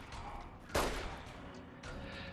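A pistol shot rings out in Fallout: New Vegas, Dead Money, a single loud crack over steady game ambience, followed shortly by a softer second report.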